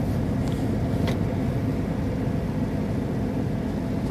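A car with a manual transmission cruises along a causeway in Dunedin, Florida, giving a steady low engine and road rumble, loud and close, with no gear change standing out and nobody speaking.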